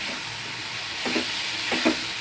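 Potatoes fry with ginger garlic paste and spices for ghugni. A steady close sizzle runs throughout, broken by a couple of soft stirring scrapes, with no talking.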